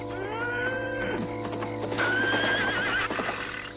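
A horse in an animated adventure whinnies twice, each a loud, wavering neigh, the second after a short pause, with hoof clatter and rustling movement beneath.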